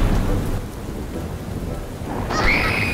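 A cartoon rain and thunderstorm fills the scene with dense, steady rainfall and a low rumbling thunder bed, and a rising high-pitched cry appears near the end.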